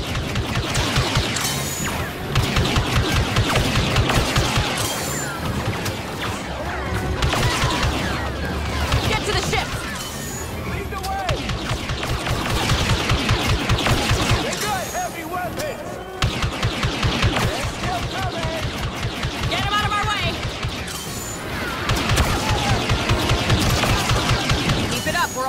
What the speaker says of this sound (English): Then just keep shooting!